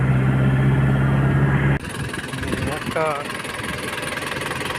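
A Nissan Big-M pickup truck engine idles at a steady low hum, loud and close at first, then quieter and rougher after a cut, while someone speaks over it.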